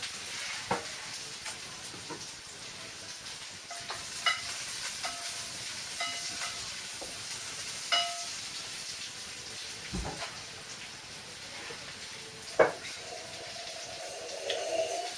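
Pasta gets stirred with butter in a hot pan, a quiet continuous sizzle broken by scattered clicks and scrapes of the utensil against the pan.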